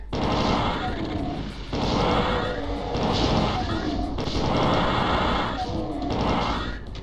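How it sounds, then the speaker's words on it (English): Rapid bursts of plasma gun fire from the shooter game Doom 2, a dense crackling barrage in several loud stretches with brief pauses between them, mixed with other in-game combat noise. "People do not give the plasma gun enough credit."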